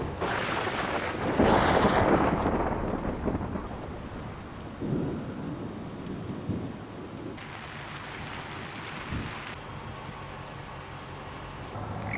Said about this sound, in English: We knew that there was going to be a storm rolling in at about 1:45.